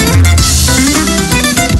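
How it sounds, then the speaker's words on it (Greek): Bouzouki playing in a late-1950s to early-1960s Greek style, loud and dense with quick plucked runs over a steady accompaniment, with no voices. "Διότι αυτό που ακούς είναι μπουζούκι."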